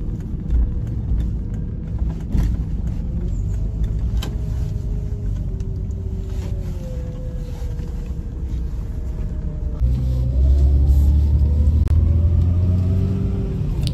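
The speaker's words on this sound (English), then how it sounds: "Some of the rattling you can hear is caused by those stupid wobbly, whatever they're called, on the dashboard." Jeep Grand Cherokee, lifted, driving with a steady low engine and road rumble, light rattles from loose dashboard parts ticking over it, the engine note rising toward the end.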